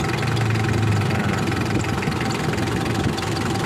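A car engine idles steadily during a DIY coolant flush, a continuous low rumble with a faint rattling texture, close and even throughout with no voices.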